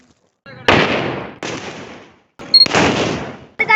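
Multi-shot Diwali firecrackers go off in loud, crackling bursts, three long volleys of rapid blasts with short gaps between them and a fresh burst starting at the end, close by.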